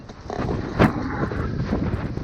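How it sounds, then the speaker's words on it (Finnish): Strong wind buffets the microphone on the summit of Rajapää fell, a gusty roaring rush near and loud, with one sharper blast. "Täällä tuulee aika pirun voimakkaasti."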